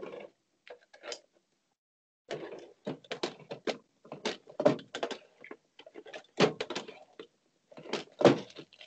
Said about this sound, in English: I'm opening up drawers. King size. Love that sound.